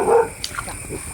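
A dog gives a short yip, a quick high bark with a whimpering edge, close by outdoors at night in a rice field during frog hunting. The sound is brief and loud.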